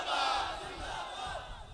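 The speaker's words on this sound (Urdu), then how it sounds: "جڑیاں میرے نبی دے نور دے نعرے لگا دیا نے" A large crowd at a religious sermon gathering chants slogans in unison, a loud, massed roar of voices that swells and holds briefly.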